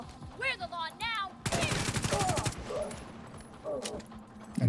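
Video game gunfire as an agent shoots hyenas: a quick rattle of automatic shots mid-clip amid animal-like yelps and game effects, with a few isolated shots after.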